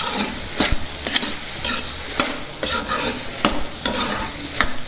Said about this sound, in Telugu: మొత్తాన్ని ఒకసారి బాగా కలుపుకుందాం